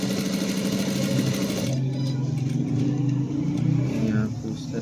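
A sewing machine stitching a band collar runs in a fast, steady mechanical whir with a tight rhythmic rattle, close and continuous, slowing slightly near the end while a voice talks over it.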